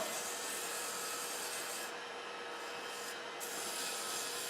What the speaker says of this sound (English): Put a little back pressure on this when you sand as well.